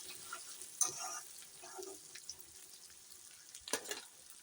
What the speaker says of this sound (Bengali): সুন্দর করে ভেজে নিই